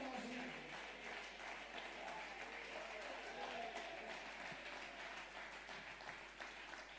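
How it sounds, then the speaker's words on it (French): A church congregation claps its hands together in praise, a steady dense patter of many hands that fills the room at a moderate level, with some voices mixed in. "Give the Lord a hand clap of praise"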